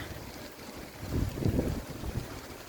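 Very strong wind gusts at home, a roaring, rushing buffet that swells loudest midway and batters the microphone, with no voices.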